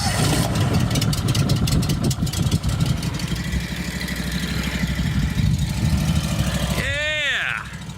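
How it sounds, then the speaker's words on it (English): A repaired engine cranking over and catching, then running steadily and loudly close by, with a faint tonal sweep near the end as the sound drops slightly. "I'll start this engine."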